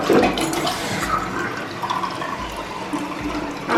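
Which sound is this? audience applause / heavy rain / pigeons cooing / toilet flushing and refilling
toilet flushing and refilling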